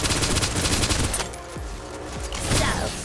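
Sustained suppressive gunfire from the video game Snowbreak: Containment Zone, a loud dense fusillade of rapid shots that thins out midway before another surge of firing, with no voices.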